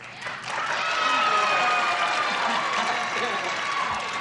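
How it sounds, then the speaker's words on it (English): Studio audience applause on a game show, swelling quickly into dense sustained clapping mixed with crowd noise and cheers, loud and continuous. "The applause was swelling"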